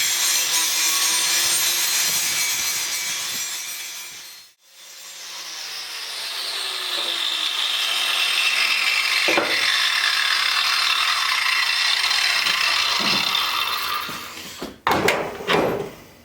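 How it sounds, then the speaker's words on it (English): An angle grinder cuts a slot in steel for a log arch build, whining loudly and steadily, briefly stopping and spinning back up before ending in a few clanks. "I've been grinding a slot this thing sets down inside of"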